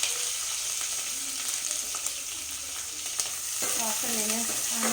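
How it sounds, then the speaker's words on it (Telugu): Green chillies and long-sliced onions sizzle and fry steadily in a pan for a Hyderabadi dalcha, with an occasional stir and a brief melodic tone near the end. "కాస్త వేగాక పచ్చిమిర్చి, పొడుగా కట్ చేసి పెట్టుకున్న ఆనియన్స్ వేసుకోవాలి."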